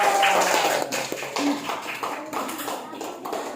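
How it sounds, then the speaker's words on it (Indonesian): A class of fourth-grade children claps hands together in a patterned rhythmic clap, sharp bursts of taps with short pauses between groups, fairly close and lively. "Iya, bisa semua tepuk tangan."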